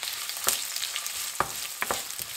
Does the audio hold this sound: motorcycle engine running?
no